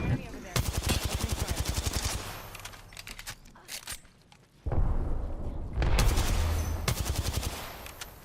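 Video game gunfire in a first-person shooter: loud, rapid automatic bursts broken by a short quieter gap, then heavy fire resumes, with occasional louder booms.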